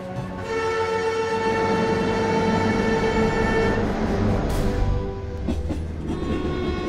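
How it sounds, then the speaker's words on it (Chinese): A slow passenger train on the winding Baoji–Chengdu mountain railway through the Qinling range sounds a long, loud horn blast over the steady rumble and clatter of its wheels, then rolls on after the horn stops. "时至今日，这里的小慢车平均时速也不过30公里左右。"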